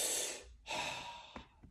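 Diaphragm breathing exercise: a long, close, airy inhale followed by a sustained exhale and a couple of soft breath catches, heard alone without speech.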